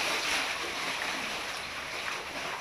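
Sea waves washing near a cave, a steady broadband rush of surf and water that stays fairly constant and close throughout, with no talk over it.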